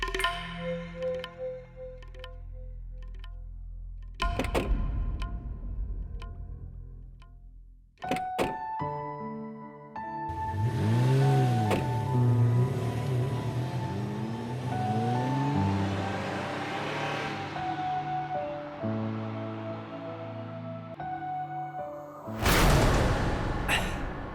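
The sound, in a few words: car driving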